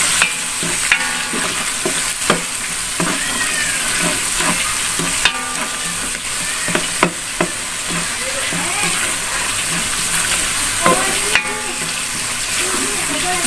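Shrimp paste (terasi) sizzles steadily in a hot pan for a sayur bekasem Betawi, with repeated scraping and clatter as it is stirred, continuous and close throughout.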